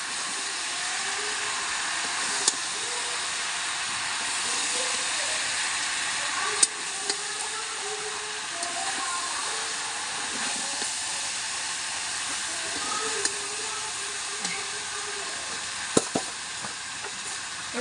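Spiced curry with chili powder fries in a pan, a steady, close sizzle and hiss that runs unbroken throughout, marked by a few sharp ticks of a utensil.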